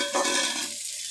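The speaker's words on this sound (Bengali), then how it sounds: "পেঁয়াজটাকে কড়াইতে দিয়ে দিলাম তেলের মধ্যে।" Onion hisses loudly in hot oil in a wok, with one brief stir near the start, then a steady sizzle that fades slightly, close up and without speech.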